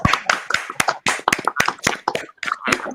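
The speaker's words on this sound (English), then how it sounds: "If your best player hasn't scored in 6, clap." A few people clap their hands in a quick, uneven burst of sharp slaps, close and fairly loud, over about three seconds with no talk.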